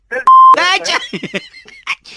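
A single steady electronic beep, like a phone call cutting off, sounds briefly and clearly during a Hindi prank phone call, with a voice talking before and after it.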